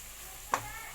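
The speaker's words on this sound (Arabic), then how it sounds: "نقلب كده" A spoon stirs spiced rice with dried lime, bay leaf and curry in a pot, giving one short scrape over a steady low hiss.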